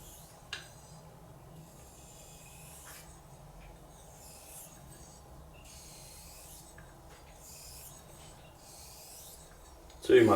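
Straight razor stroked across a soft Japanese natural whetstone, a series of quiet rasping swipes in a slow rhythm, faint and close, ending with a louder knock.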